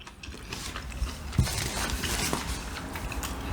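Biting into a KFC hot chicken wing in France gives a crisp crunch, one sharp snap followed by brief crackly chewing, close to the mouth against a steady indoor background.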